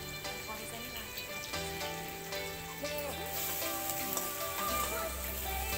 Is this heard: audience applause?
no